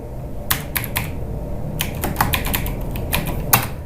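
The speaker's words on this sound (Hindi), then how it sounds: "फिर दोबारा हमने टाइपिंग शुरू करी।" Typing on a computer keyboard during an Adobe Illustrator lesson: irregular clusters of crisp key clicks, close and fairly loud, with brief pauses between bursts and no talk.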